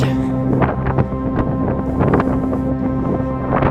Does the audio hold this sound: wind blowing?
yes